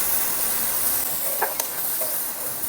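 A flipped ragi pancake cooks in oil on a hot tawa, giving a steady close hiss and gentle sizzle with a few faint clicks partway through.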